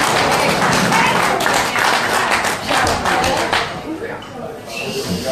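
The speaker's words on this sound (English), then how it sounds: "give him a round of applause, ladies and gentlemen" An audience at an evening event applauding, a dense steady clapping that fades off near the end while speech is heard over it.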